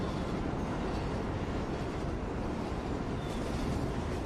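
A train in the TMNT Out of the Shadows video game, a continuous loud rumbling rush of rolling rail noise that stays steady throughout with no break.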